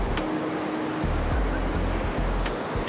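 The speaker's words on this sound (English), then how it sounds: "All of the sound of the sea." Big sea waves crash and surge against Tenerife's volcanic coastline, a loud continuous roar with heavy low rumbling swells building from about one second on, no voices.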